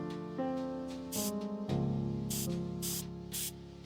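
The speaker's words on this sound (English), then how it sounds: "Well, let's spray it on the table." Repeated hissing bursts of clue-detecting powder sprayed onto a table in the video game Frog Detective 3, four or five short sprays sounding over tonal game music.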